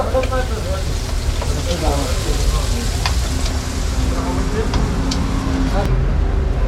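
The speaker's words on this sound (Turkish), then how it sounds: "Abimiz de şu an kızartıyor felafinleri." Chickpea falafel fries in hot oil at a busy market stall in Ahvaz, Iran, with a steady, loud sizzle throughout and light clatter. Traffic hums faintly in the background.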